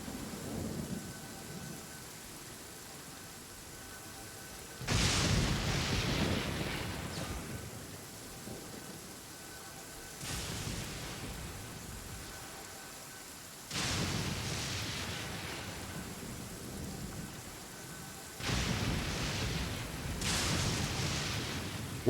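Heavy rain pours steadily in Genshin Impact while deep thunder rumbles and cracks roll in four separate bursts, each swelling loudly over the rain and then fading back into the constant downpour, with no voices.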